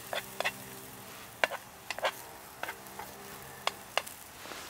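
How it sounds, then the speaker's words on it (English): Sweet batter fritters frying in olive oil in a pan over a cool flame outdoors in the woods, a soft sizzle broken by sharp crackling pops scattered irregularly, close by, no talk. "I cook them in butter, or I'm using olive oil here."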